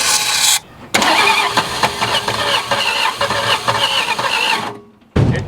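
A 1961 Ford Falcon, long abandoned, cranks loud and close on a charged battery, the starter churning in a steady rhythm for about four seconds with a brief sputter of trying to catch, then cutting off.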